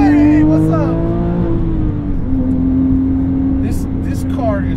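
A modified Porsche 997.1 GT3 holds a steady, loud engine note at close range, with a brief rise in revs near the end, under speech.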